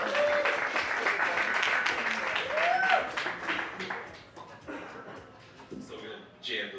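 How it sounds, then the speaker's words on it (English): A crowd at a Crypto Monday San Juan gathering in Puerto Rico claps, a moderate burst of applause under lively talk and cheering that fades after a few seconds, leaving voices and scattered sounds. "Let me get a round of applause, please."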